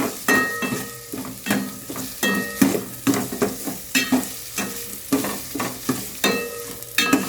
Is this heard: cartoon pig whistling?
no